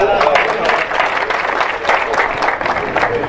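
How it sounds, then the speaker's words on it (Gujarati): An audience at a community meeting bursts into sustained applause, dense steady clapping from many hands that fills the hall for a few seconds without letting up. "બધાને વિનંતી કે એકવાર તાળી વગાડો"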